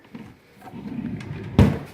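A drawer in a home schoolroom storage unit holding keyboards, calendar items and art supplies is pushed shut with a single solid thud near the end, after faint shuffling.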